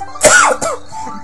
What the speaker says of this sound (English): That was a genuine cough, too.